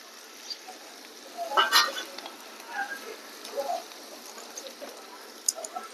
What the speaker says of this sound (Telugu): ఇవి కూడా కొద్దిగా బ్రౌన్ కలర్ వచ్చేదాకా వేయించుకుందాం.